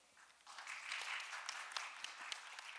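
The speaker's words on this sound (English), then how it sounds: "please give a big round of applause to all of our presenters for session 2" An audience at an academic workshop applauding presenters, a faint, distant wash of many hands clapping, rising briefly then holding steady with a few sharper claps.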